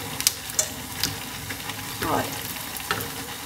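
Thinly sliced bacon fries in a pan with a steady crackling sizzle, broken by a few sharp clicks and a short stirring swish, while a voice says a word near the start.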